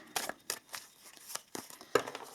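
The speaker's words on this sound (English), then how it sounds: "we are going to shuffle a little bit and then we are going to pull 6 cards" Tarot cards are shuffled close by in a series of crisp, papery riffles and slaps, about eight quick bursts in an uneven rhythm against a quiet background.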